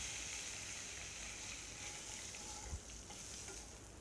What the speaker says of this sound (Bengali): একটা তেজপাতা ফুরন দিচ্ছি।